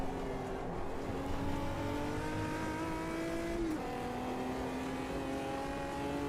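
Race car engine in the Automobilista 2 racing game, a steady loud engine note with rising and falling harmonics as the throttle is worked, a brief dip near the middle, with no talk over it.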